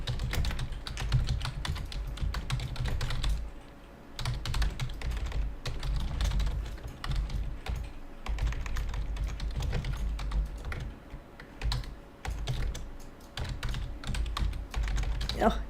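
Computer keyboard typing in an office software session, a continuous run of keystrokes with brief pauses, moderately close over a steady low background hum.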